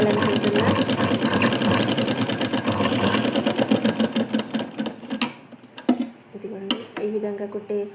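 A sewing machine stitches blouse fabric, running in a steady rapid mechanical rhythm for about five seconds, then stopping and starting in short bursts.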